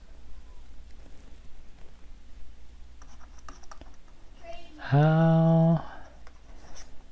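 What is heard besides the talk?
stylus writing on reMarkable tablet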